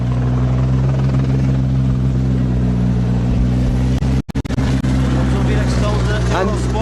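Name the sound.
helicopter flying over rally stage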